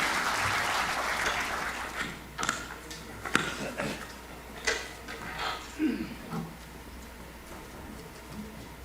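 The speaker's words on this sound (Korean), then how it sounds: "여러분 큰 박수로 환영해 주시기 바랍니다" Applause from an audience at a Korean commemoration ceremony fades from a steady patter into scattered claps and a few faint noises, with no talking.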